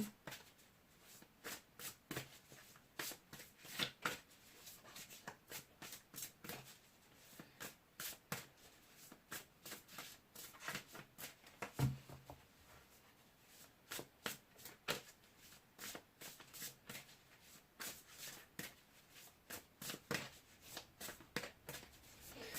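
Tarot cards are shuffled by hand in quick repeated bursts of crisp riffling and flicking, close and fairly quiet, continuing for a long stretch without talk.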